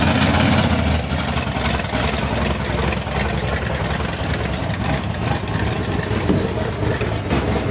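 A Ford Crown Victoria engine running on only seven cylinders at a dragstrip rumbles loudly and steadily, a rough low drone with an uneven pulse, close up and continuous.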